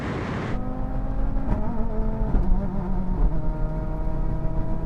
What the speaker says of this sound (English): now we're going to have a rolling race from 50 miles an hour.